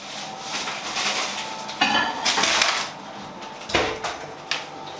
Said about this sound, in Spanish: yo me quedo aquí machacando y luego continuamos